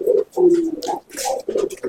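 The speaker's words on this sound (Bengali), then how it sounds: "এত ভালো গিরিবাজ পায়রা" Rampuri Giribaz pigeons coo in repeated low, throaty phrases with short pauses between them, close and fairly loud, with a faint rustle in the background.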